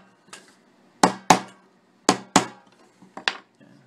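Piece of hardwood used as a block to tap a fret down into a canjo neck, giving sharp close wooden knocks in uneven pairs and singles, each ringing briefly before fading.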